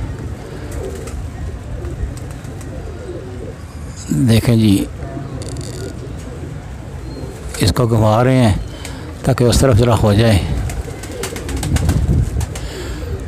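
Pigeons coo in low, throaty bursts at close range while pigeon catchers work, with someone talking intermittently over steady outdoor background noise.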